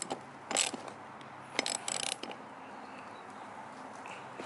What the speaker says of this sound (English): Your ratchets.